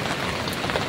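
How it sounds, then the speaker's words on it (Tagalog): Heavy rain falls steadily in a continuous dense hiss of drops striking surfaces, loud and close, with no voices. "Lakas ang ulan eh"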